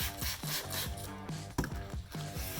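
Wet sanding of a plastic car headlight by hand, steady back-and-forth rasping strokes at a quick even rhythm, close and moderately loud.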